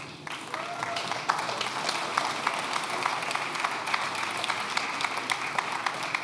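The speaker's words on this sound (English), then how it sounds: "Applause for Niclas, please." Audience applause for a speaker stepping onto the stage at a start-up award ceremony during the Circular Republic Festival 2023, a steady dense wash of clapping lasting throughout at moderate distance, with no talk over it.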